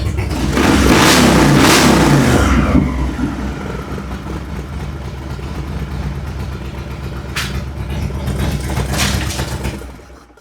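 A Harley-Davidson Road Glide motorcycle, bought as a non-runner, revs loudly nearby, then settles into a rumbling idle before another shorter blip of throttle.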